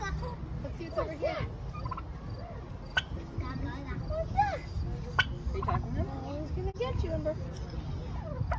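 A Thanksgiving turkey gobbles in repeated bursts near an English Springer Spaniel, the calls rising over steady background noise while people talk excitedly throughout.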